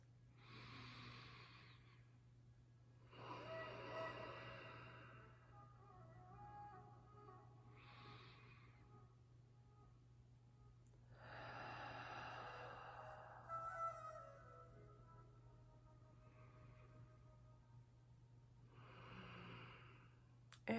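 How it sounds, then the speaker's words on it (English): Slow, deep breaths during a meditation, about five long inhales and exhales spaced a few seconds apart, soft and close over a low steady hum, with no talking. "let's just start off by taking 3 deep breaths"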